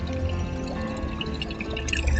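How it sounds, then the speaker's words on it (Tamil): Water runs steadily from a tap or fountain for washing hands in a Swiss village, a continuous close pouring and splashing that stays loud throughout with no talk. "இதுல கை கழுவுறதுக்கு தண்ணி இருக்கு."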